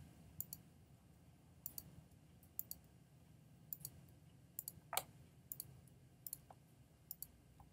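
The S key being tapped repeatedly on a computer keyboard during video editing: sharp, light clicks at irregular intervals, close and fairly faint, with no speech.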